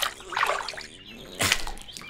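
Splashing water effect in an animated scene, a couple of brief broadband splashes and sloshes at close range, the second burst sharper, with no talk over them.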